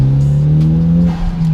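Mitsubishi Evo 7 engine revving high and pulling hard, a loud steady droning tone rising slightly in pitch under acceleration, heard from close by without talk.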